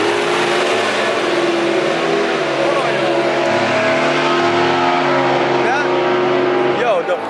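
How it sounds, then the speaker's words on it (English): A drag race car launches down the lane on a test hit, its engine roaring loud and close with a rising, revving pitch that sweeps upward near the end. "So we are in the lane, getting ready to go and launch the vehicle for the first time."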